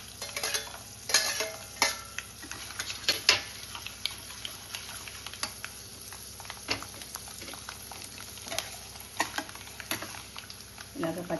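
Cashews frying in hot oil while making amla pulihora, with a steady sizzle broken by scraping stirs and sharp clicks of a spoon against the pan, close and continuous.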